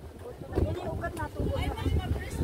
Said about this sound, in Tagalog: sinasabi ko sa inyo mahangin dito eh